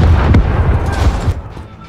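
A detonated charge in Call of Duty: Modern Warfare (2019) goes off as one close, heavy blast with a deep rumble that rolls on and fades over about two seconds.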